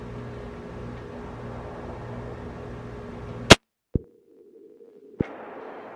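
A single sharp, loud gunshot from a 7mm Rem Mag or 25 ACP handgun firing gun show reload ammunition, followed by a metallic clank and a second smaller impact against a faint outdoor hum.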